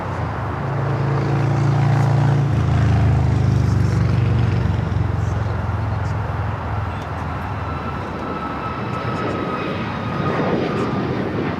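An Alaska Airlines airliner taking off from runway 25 right at Los Angeles on a Seattle flight, a loud sustained jet engine roar that swells early, then slowly fades and thins as it recedes.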